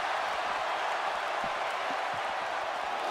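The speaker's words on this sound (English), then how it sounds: "This crowd is absolutely going wild." A wrestling crowd roars in a steady, dense wash of cheering and applause, loud and continuous throughout, with no distinct voices standing out.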